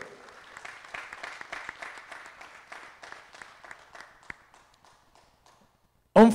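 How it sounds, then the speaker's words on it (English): A crowd at a para shooting 50m rifle prone event claps, steady at first and then thinning out into scattered claps before fading, followed by a sudden loud burst at the very end. "big applause to Mr. Marek Dobrowolski"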